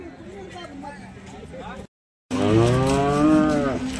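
A cow at a cattle market in Sangola moos loudly and close by in a long, drawn-out call, following a stretch of people talking.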